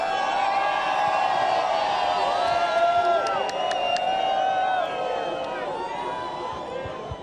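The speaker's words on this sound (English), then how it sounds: "They went nuts down here. Let's hear it again for Toledo" A beach crowd at a surfing contest in Rio cheers and whoops, a loud continuous roar of voices, with a commentator talking over it.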